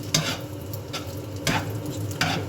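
Carbonara pasta sizzles in a hot frying pan while it is stirred and tossed, with three or four brisk scraping swishes at uneven intervals.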